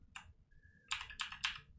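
Someone types a short command on a computer keyboard while setting up Arch Linux: one isolated keystroke, a pause, then three quick close clicks, crisp and near in a quiet room.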